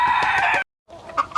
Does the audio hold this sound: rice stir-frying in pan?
no